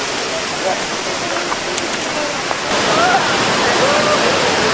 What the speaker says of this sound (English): I don't think I've actually ever seen a waterfall with this many different cascades